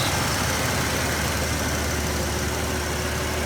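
A 1991 Ford F150 Custom 4x4 pickup idles, its engine giving a steady, close, low rumble with a constant hum and no talking.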